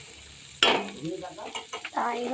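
Chopped onion hits hot oil seasoned with cumin and bay leaf, giving a sudden sharp sizzle that keeps crackling softly beneath a voice speaking briefly.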